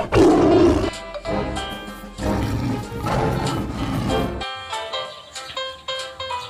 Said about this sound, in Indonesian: Kalau itu namanya macan tutul kakak. Jenis binatang karnivora kakak.